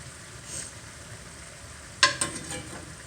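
A metal spoon scrapes through cauliflower Spanish rice in a cast iron skillet, giving a quick sharp double clink near the end over a faint, even sizzle.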